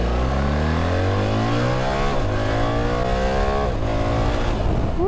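A BMW R1300 GS motorcycle engine revs hard and climbs through the gears, pitch rising in repeated sweeps with brief drops at each shift, loud and close throughout.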